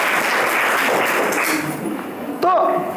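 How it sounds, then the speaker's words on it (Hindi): An audience claps for a group of children in a dense, steady wash of applause lasting a couple of seconds, then a voice briefly cuts in near the end. "तालियां तो बजाओ भाई इन बच्चों के लिए"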